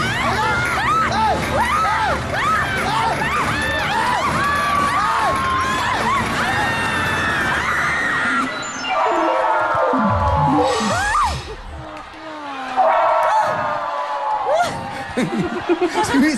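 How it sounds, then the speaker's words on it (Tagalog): A crowd at a game shouts and cheers loudly, with many overlapping excited voices, yells and laughter rising and falling throughout, dipping briefly before surging again. "Sumisigaw lahat eh."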